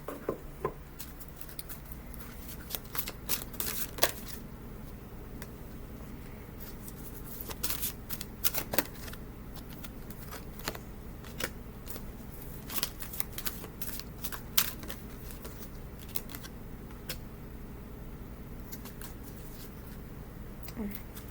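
Whisper of Healing oracle cards are shuffled close by in quiet, rapid riffling bursts, soft papery flutters recurring with short pauses throughout.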